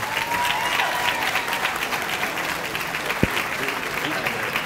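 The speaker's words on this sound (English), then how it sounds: "I'd like you to give a round of applause for the induction of Dr. Stanley Broadnax." Steady applause fills a hall at a school hall of fame induction ceremony, a crowd clapping evenly and loudly throughout, with a brief sharp knock partway through.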